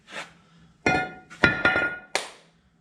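A hammer strikes the rear brake rotor of a 2016 Ford F-150 to knock it free, giving about five sharp, close, ringing metallic blows in an irregular rhythm with brief pauses between them.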